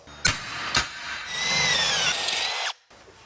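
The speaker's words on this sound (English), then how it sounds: "we'll drill it a little bit oversized" A power drill makes two short bursts, then one sustained whining run as it bores an oversized bolt hole for a Honda Talon UTV build, cutting off abruptly near the end.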